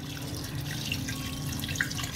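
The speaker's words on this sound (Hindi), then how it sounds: "तो हमने इतना पानी इसमें डाल दिया कि जो बीफ था वो इसमें डूब गया है" Water pours steadily from a tap into a pot of beef being readied for boiling, a continuous close splashing stream with a few small drips and no speech.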